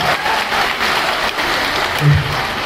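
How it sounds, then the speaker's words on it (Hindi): A crowd claps continuously at a political rally in Sampriti Hall, Burnpur, producing a dense, loud, sustained wash of applause with a brief low voice near the end. "जोरदार तालियां इनके लिए"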